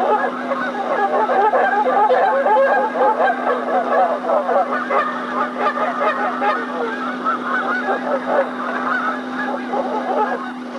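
A big flock of flightless molting geese swimming together on a river honks and chatters continuously, many overlapping calls close by, over a steady low hum.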